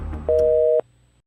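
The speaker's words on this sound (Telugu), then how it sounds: "The person you are speaking with has put your call on hold." A single steady electronic telephone tone marks a call placed on hold, holding for about half a second over faint background sound before cutting off.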